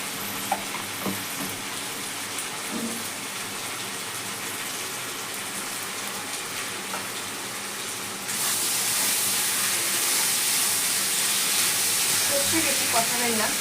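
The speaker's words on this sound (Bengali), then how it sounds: "সর্ষে বেশি কষাবেন না, তাহলে কেটে হয়ে যাবে।" Mustard and poppy seed paste fries for sukto in a hot pan, a steady loud sizzle that grows brighter and more hissing partway through, with occasional stirring scrapes.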